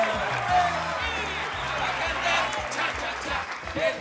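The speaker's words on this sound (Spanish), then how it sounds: "Recibámoslo con un fuerte aplauso." A theater audience applauds a doctor character coming onstage in a comedy show, crowd clapping heard under music and voices for a few seconds.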